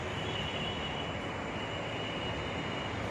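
A metro train rumbles steadily at a station, a loud continuous roar of wheels and motors with no breaks and no voices.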